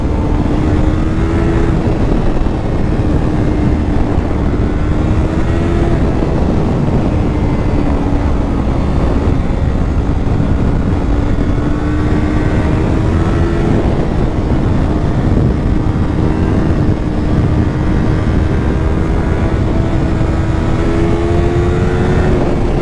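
A Yamaha R3 motorcycle engine drones loud and steady while riding twisty roads, its pitch rising and falling smoothly through the bends over constant wind rush, with no speech.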